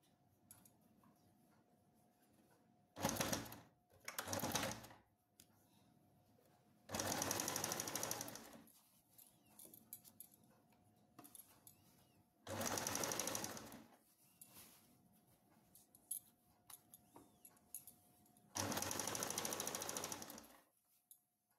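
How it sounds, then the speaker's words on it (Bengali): Sewing machine stitching the leg hem of half pants in several separate bursts of one to two seconds each, with quiet pauses between them. The whir is close and steady. "এবার আমি এটা সেলাই করব।"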